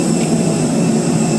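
Steady broadband roar of an airliner at Bengaluru airport before a flight to Bagdogra, a loud continuous engine hum and rush with no voices, constant throughout.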